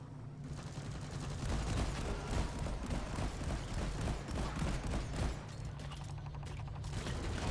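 Gunfire in the video game Deep Rock Galactic, a dense, continuous burst of rapid automatic shots with mechanical clatter that runs loud and unbroken for several seconds.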